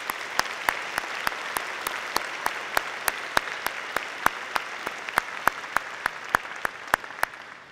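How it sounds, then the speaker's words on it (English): Applause at a 2015 spring engineering commencement comes as sharp, evenly spaced claps over a soft crowd wash. The beat stays steady for several seconds with no speech on top. "One more round of applause."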